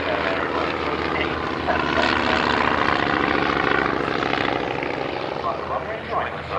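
Aircraft engine droning steadily at a Shuttleworth evening air display, loud and continuous for the whole stretch, with a propeller or rotor-like throb underneath and voices faintly mixed in.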